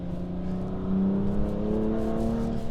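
A BMW M2 Competition engine drones at a steady high pitch, rising slightly as it revs, with a smooth continuous hum and no talking.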